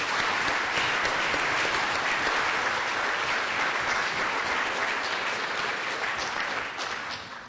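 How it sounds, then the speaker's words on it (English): A seated audience at a city environment committee meeting gives a steady, full round of applause for the 2015 award recipients, continuous and even before tapering slightly at the end. "Please join me once more for a round of applause as we congratulate all the recipients of the 2015 awards."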